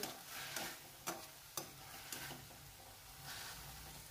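Vegetables sautéing in a pan on low heat, with a soft steady sizzle and several distinct stirring scrapes and knocks spaced about half a second apart, close by, no voices.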